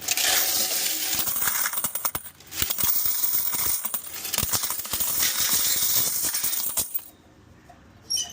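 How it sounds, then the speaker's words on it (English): Coins poured from a car wash bay coin box cascade in a long dense metallic jingle, clattering loudly and continuously before stopping, followed by a few faint later clinks. "Add in the coins here."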